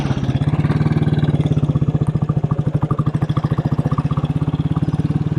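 A 1957 Royal Enfield Bullet 500 single-cylinder motorcycle in excellent condition runs steadily nearby, its loud, even thumping idle pulsing at a regular beat throughout with no voices.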